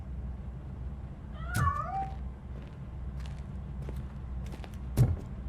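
A cat escaping in the video game RoboCop: Rogue City gives one sharp, wavering meow over a low hum, followed by faint soft thumps and a brief knock.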